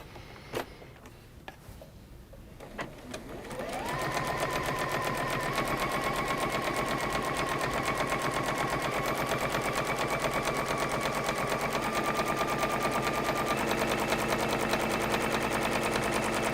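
A sewing machine stitching two fabric strips together along one side with a quarter-inch seam allowance, running steadily and continuously with a fast, even mechanical chatter after a few quiet handling knocks at the start.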